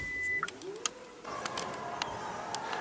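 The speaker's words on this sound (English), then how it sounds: "Power tailgate." Power tailgate of a 2016 KIA Sorento at an auto show, heard as a steady electric motor whir with a short beep near the start and a few faint clicks and ticks, all fairly quiet against the hall's background.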